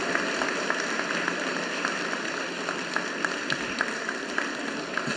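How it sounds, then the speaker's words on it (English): A convocation audience of graduates gives a steady round of applause for their family and friends, a faint, even wash of many hands clapping at a distance in a large hall. "acknowledge them with a rousing round of applause"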